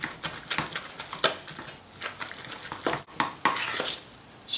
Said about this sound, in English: I just use my masher and scoop out big chunks of it. Yeah. And just start mashing.